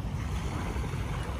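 Waves wash onto the Manila Bay shore at Dolomite Beach: a low, steady rumbling surge with wind buffeting the mic, faint and continuous with no voices.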